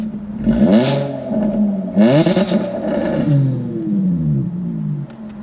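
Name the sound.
Jaguar F-Type V6 engine with exhaust valves closed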